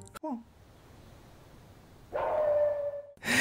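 A man imitates a dog, giving one drawn-out bark-like howl in a film scene. It comes after a near-silent stretch and is followed by a brief burst of another sound.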